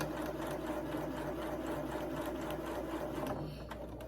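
A sewing machine runs steadily through straight stitching and backstitches, a continuous close mechanical whirr with rapid needle rhythm that eases slightly near the end.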